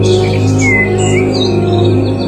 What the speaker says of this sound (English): Just like the sound of these birds.